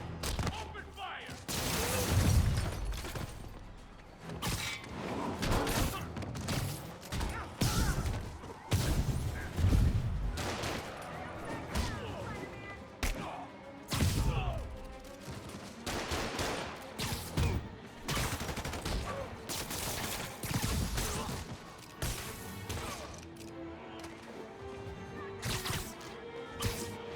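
Rapid gunfire bursts and crashing impacts from a Marvel's Spider-Man video game chase with Shocker, loud and repeated volleys mixed with game music, voices talking over the shots.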